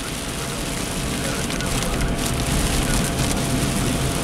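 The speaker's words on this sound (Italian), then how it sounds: "Non so se mi sentite con il rumore della pioggia" Heavy downpour drumming on a car while driving, a dense, loud, continuous roar of rain with no breaks, heard alone.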